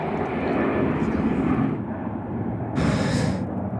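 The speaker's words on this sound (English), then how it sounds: "Qantas 87 service departing there off runway 34 left." A Qantas airliner departing Sydney Airport off runway 34 left, a broad steady jet roar heard from a distance with a brief brighter surge of engine noise near the end.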